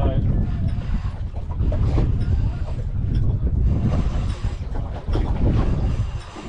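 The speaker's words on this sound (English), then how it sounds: "wind's starting to pick up now" Strong wind gusts across open water on a fishing outing off Perth, Western Australia, roaring as a loud, continuous buffeting rumble close to the microphone, with faint voices mixed in.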